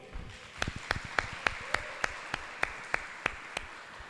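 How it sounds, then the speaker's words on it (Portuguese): A small group in a church claps for the Lord in slow, evenly spaced unison claps, roughly three per second, fairly quiet and distinct over a soft room murmur. "Vamos aplaudir o Senhor?"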